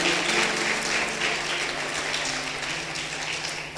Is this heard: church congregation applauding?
yes